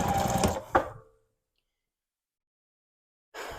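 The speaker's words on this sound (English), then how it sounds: "you can sew from this side" A sewing machine stitches fabric for a sardine-shaped pillow in a short, loud burst with a sharp click, followed by a long silence before stitching starts again near the end.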